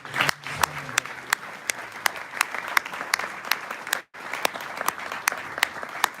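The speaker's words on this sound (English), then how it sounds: "Another round of applause for our speaker." A small audience at a Hare Krishna retreat in the UK claps for a speaker. Distinct, fairly even hand claps ring close and clear over a light crowd murmur, with a brief break partway through.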